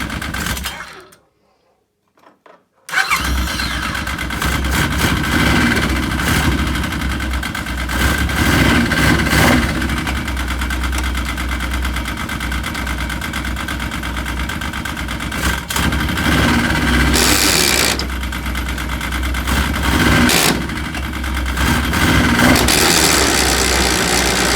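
A 2006 Yamaha RS Viking Pro snowmobile with a faulty, grinding gearbox runs loudly and close up, a steady rough mechanical roar with rattling and grinding texture after a brief quiet gap at the start.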